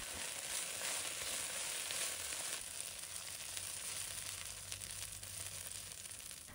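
Dried chili peppers sizzle and crackle steadily in a hot wok, a continuous broadband frying hiss with small scraping stirs, close and fairly loud with no talk.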